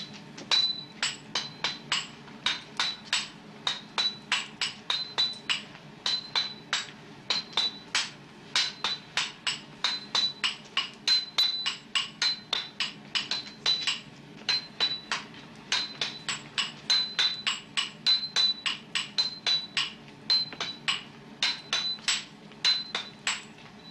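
A hammer pounds steel at a forge while a Japanese sword blade is folded and shaped, making a long run of evenly spaced, ringing metallic blows with a bright clang, steady and fairly close without talk.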